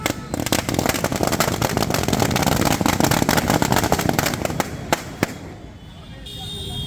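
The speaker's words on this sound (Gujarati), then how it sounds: "અત્યારે અમે ફટાકડા ફોડી અને આ ખુશીના માહોલને અમે વધાવીએ છીએ" Firecrackers set off in celebration at a political victory gathering, a rapid loud string of sharp cracking bangs for several seconds that then thins to a few scattered pops, with crowd noise underneath.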